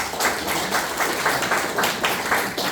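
A church congregation applauds steadily in a dense, even wash of clapping with a faint rhythmic pulse, close and fairly loud throughout.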